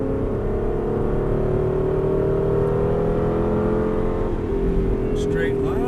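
Aston Martin V8 Vantage engine pulling hard under throttle on track, a steady loud drone with a rising harmonic whine, heard from inside the car while a person talks over it.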